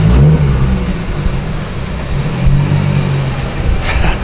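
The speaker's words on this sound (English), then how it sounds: "I'm in love with the exhaust note on this car." A BMW E36 exhaust idles and revs close by, a steady low engine rumble with a couple of throttle swells, loud and unbroken with no talking.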